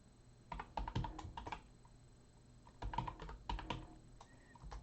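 Keys are pressed on a computer keyboard in two quiet, irregular bursts of clicky strokes with a short pause between them. The room is otherwise calm.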